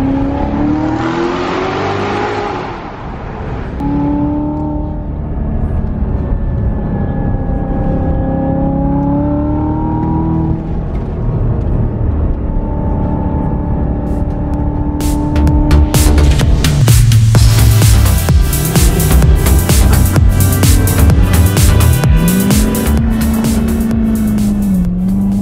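A Chevy car's engine revs and pulls hard while driving, loud and close, with rising and falling tones and gear changes, growing rougher and more aggressive toward the end.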